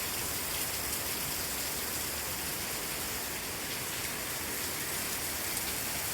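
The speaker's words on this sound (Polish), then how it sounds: "ciągle pada" Steady rain falls in Cambodia, a dense, even hiss that fills the whole stretch without a break, close and constant, with no voices over it.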